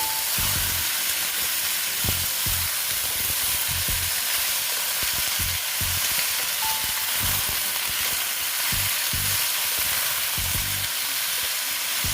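Vegetables for lau shak chorchori fry in a pan, giving a steady hissing sizzle close up, with soft irregular stirring knocks beneath and no talking.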